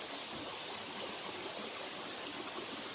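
A valley stream flows along a mountain hiking trail on Juheulsan in Mungyeong, Korea, giving a continuous, even rushing hiss of water with no talk.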